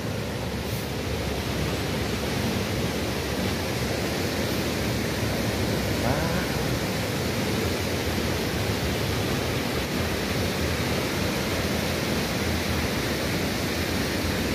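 Tuasan Falls on Camiguin Island roars as a loud, continuous broadband wash of falling water, steady and close throughout with no clear voices above it.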